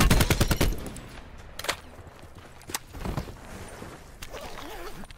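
Rapid automatic gunfire in a Black Ops 4 Blackout match, a loud burst at the start followed by scattered single shots and footsteps, with a player talking briefly.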